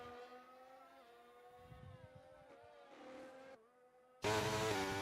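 A race car engine in a racing game on Qatar's circuit drones steadily into a corner with sliding harmonic pitch, briefly dropping off before a sudden loud burst of broadband roar near the end.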